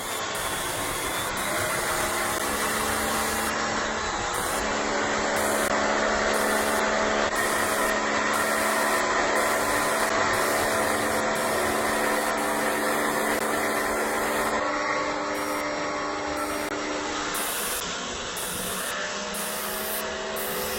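A pressure spray hisses continuously across an aluminium surface, rinsing off Thermal XR in a steady, loud, close wash with small shifts in intensity.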